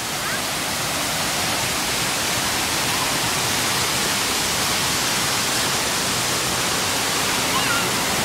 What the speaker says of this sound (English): tell mommy you seen a waterfall